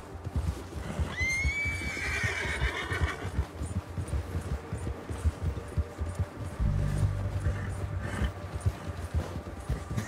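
Horse in Red Dead Redemption 2 gives a loud rising whinny early on, over steady galloping hoofbeats and rumbling ground noise that continue to the end.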